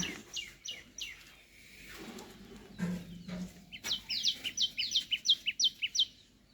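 A sparrow chirps in a rapid series of short, sharp notes, a few at first, then a quieter pause, then a quick rhythmic run of bright chirps nearby.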